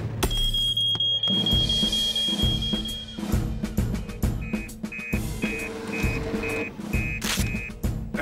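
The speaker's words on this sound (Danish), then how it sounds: "Falsk alarm uden tvivl." An alarm goes off in a cartoon discount supermarket, a steady high electronic tone followed by a run of regular pulsing beeps, heard over clattering background sound with no talk.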